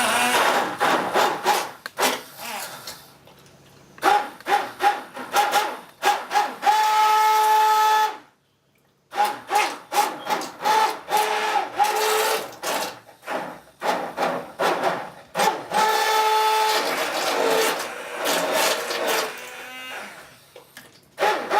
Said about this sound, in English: use the blender, and this is going to be really noisy